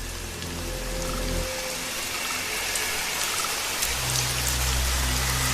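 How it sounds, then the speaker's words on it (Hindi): Heavy rain falls in a steady, loud hiss on a quiet village road, with a constant wash of drops and no voices. "तेज बारिश शुरू हो गई।"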